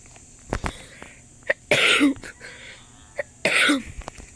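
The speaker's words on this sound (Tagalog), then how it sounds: "Medyo inuubo ko, guys." Two short coughs early on, then two louder, raspy coughing bursts separated by a pause, close to the listener over a steady background hum.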